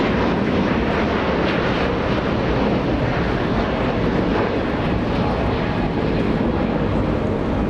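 Jet airliner engine roar from a DC-10 at Los Angeles International Airport, a loud, steady broadband rumble holding for the whole stretch with wind buffeting the microphone.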